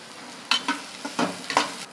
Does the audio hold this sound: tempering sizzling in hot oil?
yes